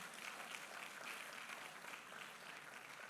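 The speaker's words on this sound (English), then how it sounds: "A round of applause for her," Steady audience applause fills a hall after a guest is thanked at a community event, a dense, even wash of many hands clapping throughout, moderately distant with no voices over it.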